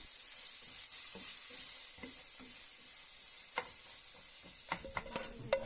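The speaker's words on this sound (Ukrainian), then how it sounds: "На цій самій сковорідці тепер обсмажую овочі, а саме цибулю, моркву та перець болгарський" Onion, carrot and bell pepper fry softly in a pan, a quiet continuous sizzle with scattered scrapes and taps of stirring that grow more frequent toward the end.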